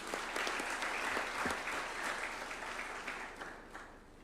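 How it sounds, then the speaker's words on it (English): A crowd applauds at a judges' swearing-in ceremony at State House, Nairobi: a dense, sustained wash of clapping from many hands in a hall, steady and then slowly tapering off toward the end. "A round of applause for him, please."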